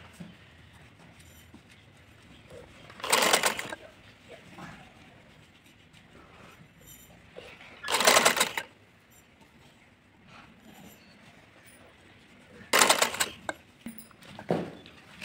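A sewing machine stitches hand-laid pleats into a fairy-style maxi dress, heard as three or four short, loud bursts of stitching separated by quiet gaps of handling.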